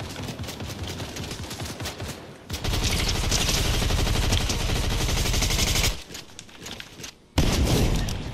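Loud, close automatic SMG fire in Fortnite, long continuous bursts with the trigger held down, broken by a brief pause and a quieter stretch before firing resumes.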